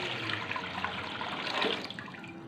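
A jug of water poured into a cooking pot on a home kitchen stove, a steady splashing gush that runs continuously and close by, with no talk over it.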